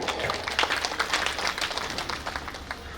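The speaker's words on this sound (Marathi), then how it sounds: "या सगळ्यांसाठी एकदा जोरदार टाळी" A crowd claps steadily and densely throughout at a kirtan in Khambale, the dense applause holding a fairly even level for the full stretch with no voices standing out.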